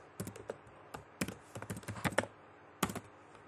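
Quiet typing on a computer keyboard while entering text into a WooCommerce product-filter setup: short irregular clusters of light key clicks with brief pauses between them.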